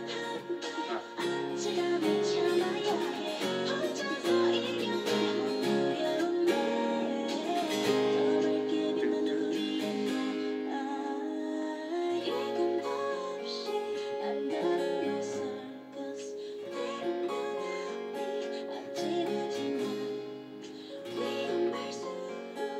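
Acoustic guitar plays the ending of a pop song, strummed and picked chords flowing steadily at moderate volume before easing off, with no talking.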